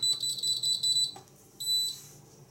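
High electronic beeps from a 1998 SAFT URA fire alarm control panel during testing, a long steady tone broken off, then a shorter beep after a pause.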